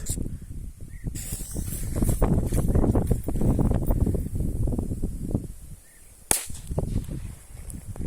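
Small firecrackers go off outdoors, a dense run of crackling pops echoing back, then one sharp, loud bang after a short lull, with a faint voice in the background.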